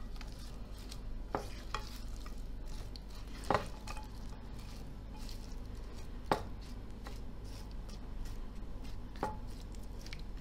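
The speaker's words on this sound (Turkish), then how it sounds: "Şimdi şöyle hafif bir karıştıralım. Bütün malzemeler iç içe geçsin." Yogurt meze ingredients drizzled with olive oil are stirred in a dish, giving a steady low scraping texture with a few sharp clicks of the utensil against the container, close and moderately quiet.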